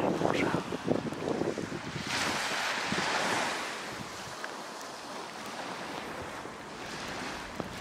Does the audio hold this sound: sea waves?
yes